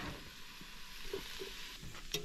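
Mushrooms sizzling in a frying pan over a campsite cooker, a steady close hiss with a few scraping stirs and small clinks, no talking.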